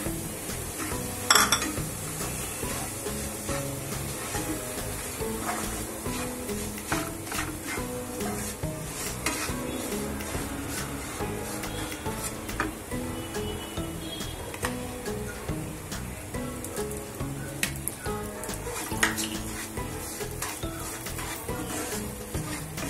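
Fenugreek flour roasting in ghee on a low flame: continuous gentle sizzling with frequent scraping and clinking of a spoon against the pan, steady and close, without talking.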